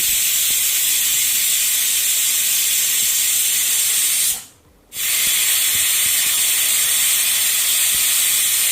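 A pressure cooker venting steam during cooking gives a loud, steady, rushing hiss that cuts out for a moment midway and then resumes at full strength.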